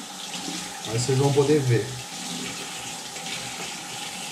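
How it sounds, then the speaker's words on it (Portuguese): Tap water gushes into a sink to rinse a fishing reel (a baitcaster) after a fishing trip, a steady splashing stream with a louder burst early on, while someone talks over it. "Então eu vou abrir a água aqui e vou começar a lavar."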